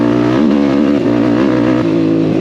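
Yamaha YFZ and Honda TRX 450 ATV engines roar loudly and continuously, pitch climbing and dipping through gear shifts as the quads accelerate hard and close by, no voices.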